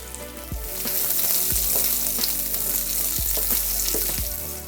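Chinese broccoli stalks dropped into a hot pan for pad see ew, giving a loud, close, continuous sizzle with a few sharp thumps and scrapes of stirring against the pan.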